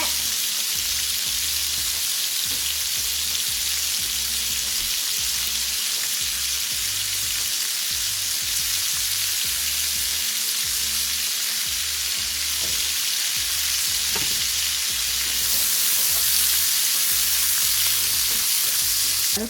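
Onions sautéing in hamburger fat in a pan, a steady, even sizzle and crackle throughout with occasional stirring, close and continuous.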